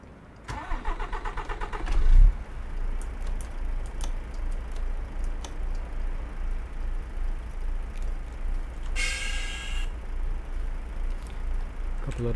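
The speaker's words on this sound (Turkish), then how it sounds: "Aracımızı çalıştıralım." A car engine cranking and starting on a snowy road trip from Hakkari to Van, a short whirring crank followed by a catch and a steady close idle with a regular pulsing throb, and a brief chime partway through.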